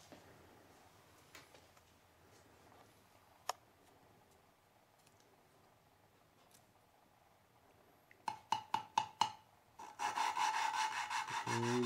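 Dodge Neon engine valves lapped with grinding compound: quiet scattered clicks and taps, then a run of rhythmic rubbing strokes followed by a steady louder grinding rasp of valve against seat, close up.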